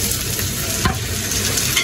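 Tomatoes dropped into onions already fried in a pan for a fish bhuna, giving a steady close sizzle with stirring scrapes throughout.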